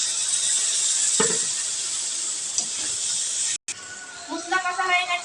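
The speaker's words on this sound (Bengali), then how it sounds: "এবার জলটা দিয়ে দিলাম।" Water poured into a sizzling pan of ground mustard paste, ginger-garlic paste, cumin powder and salt for a rui fish curry, giving a loud steady hiss that briefly cuts out, then bubbles and crackles.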